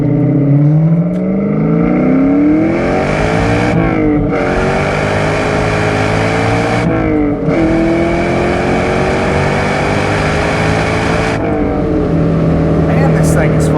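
A supercharged 1997 Ford SVT Cobra with a 4.6 V8 accelerates hard from inside the cabin, engine rising in pitch through several gears with brief dips at each shift, loud and continuous throughout.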